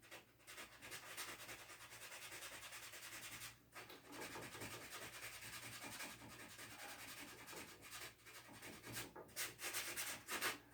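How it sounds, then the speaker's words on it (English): Sandpaper is rubbed lightly by hand over wooden rocking chair parts, a soft steady scratching with short back-and-forth strokes and brief pauses, faint and close. "Just very lightly sanding them out of there."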